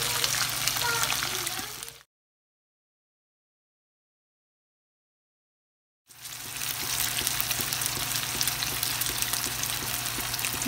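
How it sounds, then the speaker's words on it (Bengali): Fish fries in oil with a soft, steady sizzling hiss that stops abruptly into a few seconds of silence, then resumes at the same level. "মাছটা ফ্রাই হইতেছে"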